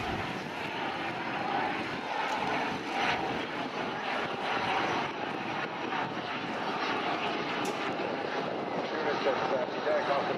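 A BAC Strikemaster jet flies slowly past at a seaside air show, its engine roaring steadily and broadly for ten seconds while an announcer's commentary runs over the top.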